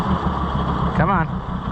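An old tractor engine idling with a steady, close, rumbling drone, while a brief warbling tone passes over it partway through.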